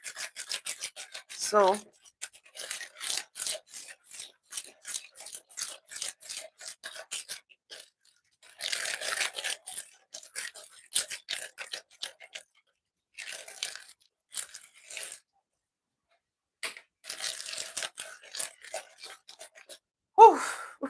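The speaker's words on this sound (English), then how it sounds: "This is the most difficult part, whisking your butter." Butter being whisked in a bowl gives off bursts of rapid, scraping strokes, close and fairly loud, with short pauses between runs. A voice speaks briefly near the end.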